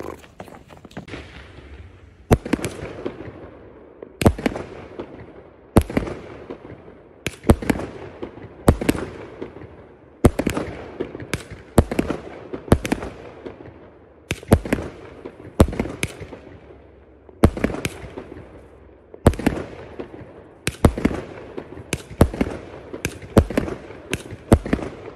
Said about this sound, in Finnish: nyt on ammuttu kaikki raketit.